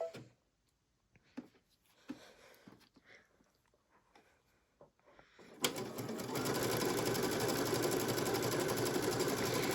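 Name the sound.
sewing machine stitching a 2-step zigzag with cording foot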